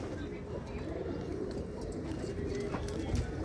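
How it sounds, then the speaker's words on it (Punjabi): A pair of white pigeons, a cock and a hen of good breed, cooing in low, soft, continuous murmurs nearby, with faint muffled human sounds in the background. "ਇਹ ਚਿਟੀਆਂ ਦਾ ਕਬੂਤਰ ਹੈ ਤੇ ਚਿਟੀਆਂ ਦੀ ਕਬੂਤਰੀ ਆ"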